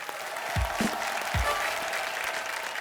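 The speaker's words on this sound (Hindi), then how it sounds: "एक बार जोरदार ताली हो जाए" Studio audience applause on a Hindi television game show, a dense, steady wash of clapping that fills the whole stretch with a few heavier thumps near the start.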